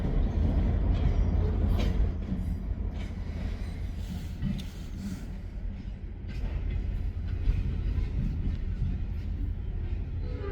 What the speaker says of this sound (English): That train is going north.